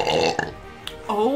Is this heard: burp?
yes